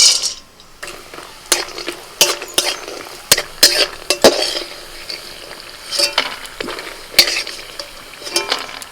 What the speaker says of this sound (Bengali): প্রথমে বড়ি ভেজে নিচ্ছি